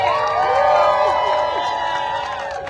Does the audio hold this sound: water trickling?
no